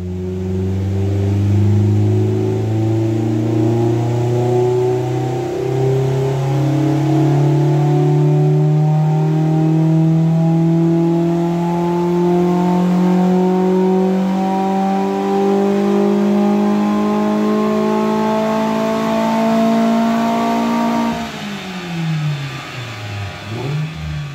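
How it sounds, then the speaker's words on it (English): A Ford Fiesta ST with a 200-spec setup revs hard on dyno rollers, a loud steady engine note climbing smoothly in pitch for about twenty seconds before dropping abruptly as the throttle lifts, with no talking. "Let's have a listen to the Fiesta ST on the rollers with the 200 spec."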